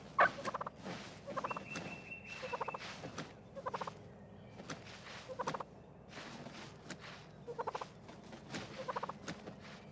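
A wild turkey gobbler gobbles during mating, letting out a rapid, rattling gobble about every second or two, roughly eight bursts in all, close and clear over a low steady background, with no talk.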